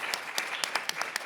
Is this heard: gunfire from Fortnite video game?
no